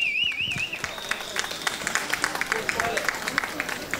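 An outdoor audience at a Balkan cheese festival in Rakovski, Bulgaria, applauds in scattered crisp claps that build into a lively rhythmic patter, with a brief warbling whistle at the start.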